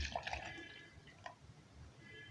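Milk poured into a blender jar for a strawberry banana smoothie, a short liquid splash and trickle lasting a couple of seconds, faint and close, with no talk over it.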